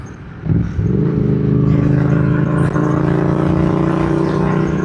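A Yamaha MT-07 motorcycle engine rises from near silence into a loud, steady drone, heard up close from the rider's position while cruising on the road.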